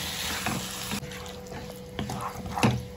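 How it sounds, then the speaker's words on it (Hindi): Boneless chicken pieces frying in a pan with spices and yogurt, a steady soft sizzle with occasional stirring clatter and a brief louder scrape near the end, no talking. "सारे मसाले के साथ मिक्स करके फ्राई कर लूंगी चिकन को"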